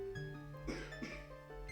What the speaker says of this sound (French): je vais tousser, je vais décéder